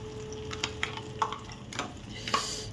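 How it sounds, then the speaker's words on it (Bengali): Spices frying in the same oil just used to cook chicken for butter chicken: a close, steady sizzle with a few light scrapes and taps of a spoon in the pan, and no talking. "এবার কিন্তু এই একই তেলেই মশলাটা দেব।"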